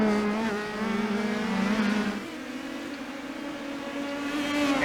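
Indy Pro 2000 race cars lap the Detroit Grand Prix street circuit in a sim race, a steady high engine whine rising and falling through the gears, with a pitch drop midway as a car lifts and then pulls away again.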